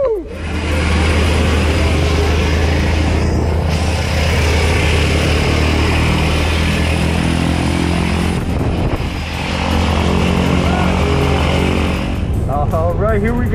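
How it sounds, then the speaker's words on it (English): Propeller engine of the skydiving plane used for a tandem jump, a loud steady drone with a low harmonic hum running throughout, close by, with excited voices and wind noise over it. "there's the airplane that we're jumping out"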